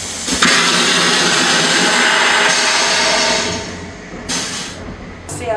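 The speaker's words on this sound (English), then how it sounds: "And then flush." A toilet flushing aboard a Tibet train, a loud sustained rushing whoosh lasting about three seconds before fading into the train's steady rumble, followed by a couple of short clunks.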